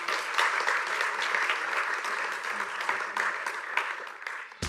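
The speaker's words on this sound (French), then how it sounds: "On les applaudit bien fort, s'il vous plaît." A live audience applauds as teams come on stage at a corporate graduate program event, steady close clapping that fades briefly near the end.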